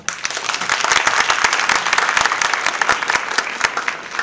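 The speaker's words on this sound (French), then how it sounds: "Applaudissez-le s'il vous plaît." An audience at a conference-style event applauds steadily, dense clapping from many hands sustained throughout, loud and close with no break.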